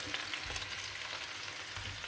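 Garlic mushrooms sauté in oil in a pan, a steady close sizzle and crackle with faint stirring and no voices.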